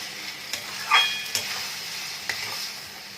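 Chicken sautés in a pan over a medium gas flame under a steady sizzle, with a handful of sharp spatula scrapes and clanks against the pan at irregular intervals, close up and with no voices.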